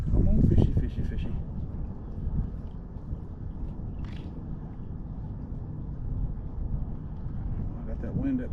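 Steady wind rumbles across the microphone aboard a fishing boat out after sheepshead, a constant low roar running through the whole stretch with faint splashy knocks now and then.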